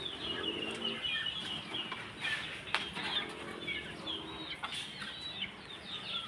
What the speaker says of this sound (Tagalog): ito yung mga sisiw